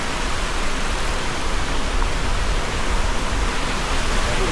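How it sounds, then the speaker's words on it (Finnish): River rapids rush beneath a bridge as a dense, continuous roar of broadband water noise, loud and unbroken with no distinct events. "Aivan nätti koski."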